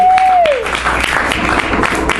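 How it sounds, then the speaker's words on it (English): Comedy show audience applauds a stand-up comic, a dense, sustained clatter of clapping filling the room, with a brief vocal whoop or call near the start rising over it. "Round of applause."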